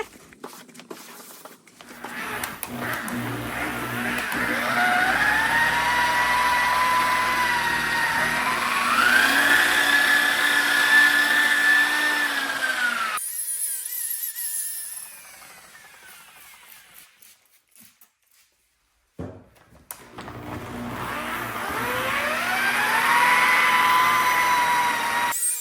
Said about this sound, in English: So I'm going to buff this hood here with rubbing compound,